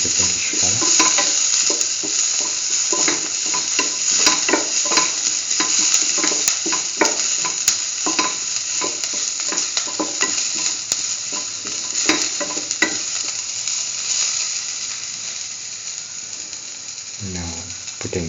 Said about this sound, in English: thoroughly saute until the onions take the pinkish color.